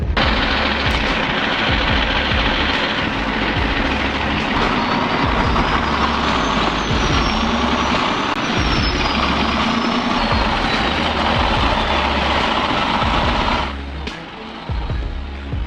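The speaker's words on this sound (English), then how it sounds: "Support the trucks as they safely climb the hill." Heavy trucks and equipment laboring up a hill, a dense, continuous, loud engine rumble and grinding that stays steady before dropping briefly near the end.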